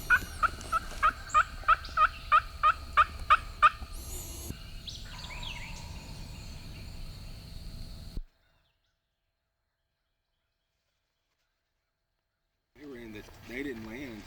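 A run of about a dozen wild turkey gobbles from the trees in quick, regular succession, fairly close, followed by softer woodland ambience, a long silence, then faint chatter.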